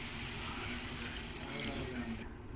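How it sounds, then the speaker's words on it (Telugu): A little water is poured into the spiced masala of a ridge gourd curry in the pan, giving a steady, soft splashing wash that runs evenly for a few seconds. "ఇందులో కొద్దిగా వాటర్ పోసుకొని"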